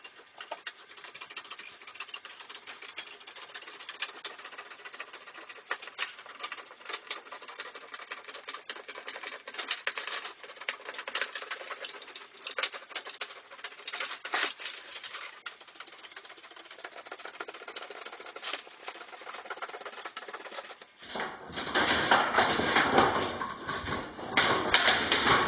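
Snips cutting light gauge metal trim stock for a Cadillac window trim retainer, a steady run of crisp close clicks and scraping crunches, with louder, fuller cutting near the end.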